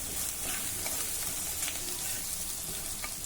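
Ginger-garlic paste sizzles and fries steadily in a hot pan for a traditional kokum kadhi, with a dense, even crackle and faint stirring scrapes, close up and without talk.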